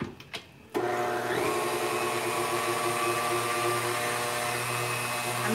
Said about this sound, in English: We're gonna mix our mixer.